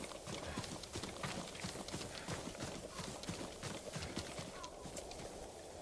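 Steady clip-clop of horse hooves at a brisk trot in the video game Ghost of Tsushima, continuous and close, with a faint background murmur.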